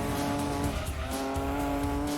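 A 390HP Nissan Skyline in Gran Turismo 2 braking hard, tires squealing in a sustained, loud skid over the engine's droning note, with no voices.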